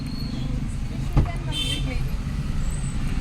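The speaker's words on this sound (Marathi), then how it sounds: "चला पटकन ट्रॅफिक व्हायला लागले." Busy street traffic with cars and buses passing close by, a continuous low engine rumble and road noise, a brief hiss of an air brake, while people talk nearby.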